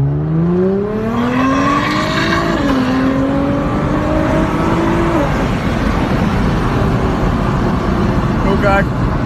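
Nissan car accelerating hard at full throttle toward very high speed, a loud engine note climbing steadily in pitch, dipping once at a gear change and then climbing again, with road and wind roar and people talking over it.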